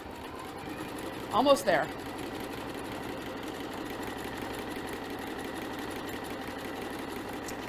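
Sewing machine stitching a coiled rope bowl, running as a steady close mechanical whir throughout, with a speaker briefly talking over it.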